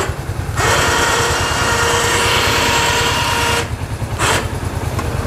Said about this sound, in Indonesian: usahakan mesin dalam keadaan hidup